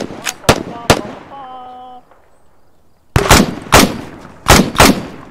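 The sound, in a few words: M2 machine gun firing in a video game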